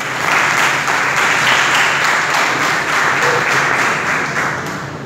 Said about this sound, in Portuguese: desocupa as suas mãos e aplauda os céus bem forte